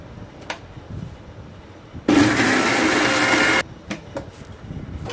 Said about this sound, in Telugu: చుక్కకూరలో తగినంత కారం వేసి ఒకసారి మిక్సీ పట్టుకోవాలి మెత్తగా